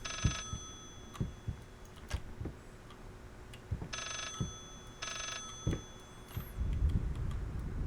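A telephone in the horror game Layers of Fear rings in short repeated bursts, faint and distant, over ticking clock-like taps and low thumps.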